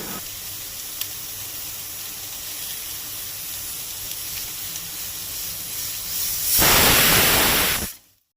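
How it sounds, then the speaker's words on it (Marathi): A pressure cooker holding cowpeas and jackfruit seeds lets off its steam whistle on a gas stove in a Goan home kitchen: a soft background hiss, then one loud, rushing blast of steam that lasts just over a second and cuts off sharply. "आता कुकर गॅसीर दवरून एकूच शिटी काडपाक जाय।"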